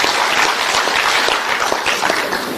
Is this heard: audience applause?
yes